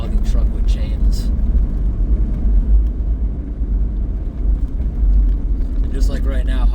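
A vehicle rolls steadily along an icy road spread with gravel in winter, giving a continuous close, deep rumble with road noise that holds even from start to finish.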